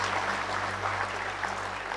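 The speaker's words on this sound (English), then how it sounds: "We give a round of applause" Dense, steady applause from the audience at a police sensitization talk on crime and drugs, a continuous wash of clapping with a low hum beneath it and no speech.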